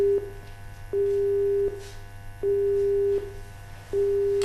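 Telephone busy signal on a failed phone-in call, loud steady tone pulses repeating evenly about every 0.75 seconds with short gaps, heard alone.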